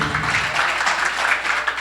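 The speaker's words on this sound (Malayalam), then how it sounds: "ഒരു കൈയടിച്ച് എല്ലാവരും" An audience claps together at a cricket league jersey launch ceremony, a dense, steady wash of applause from a crowd lasting under two seconds.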